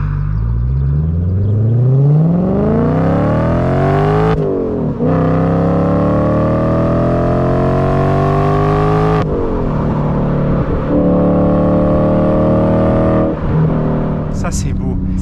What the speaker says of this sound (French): Est-ce que quand tu tires vraiment là-haut, t'entends vraiment le râle du V8